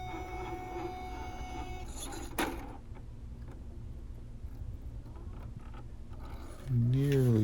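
An Axial SCX10 II RC rock crawler inches over rocks on a competition trail, its electric motor whirring steadily with gear noise, then rising into a louder, climbing whine near the end.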